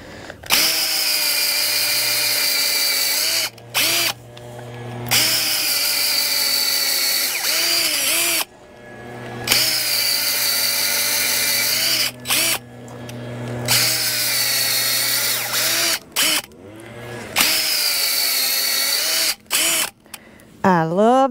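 A gas-powered auger drills into garden soil for planting daffodil bulbs, running loud and close in repeated bursts of several seconds, with short pauses between holes and the engine note wavering under load.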